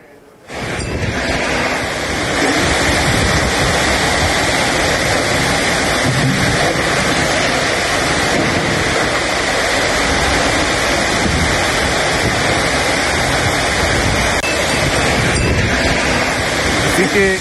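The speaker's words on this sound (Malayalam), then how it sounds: "കനത്ത കാറ്റും മഴയും അതാണ് നമുക്ക് ദൃശ്യങ്ങളിൽ കാണാൻ കഴിയുന്നത്" Loud, steady roar of heavy rain driven by strong wind at the new bus stand in Wayanad, a dense continuous wash of noise with no letup.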